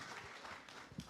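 An audience at a private sector forum gives a brief, quiet round of applause for the panelists, a steady patter of clapping heard from a distance.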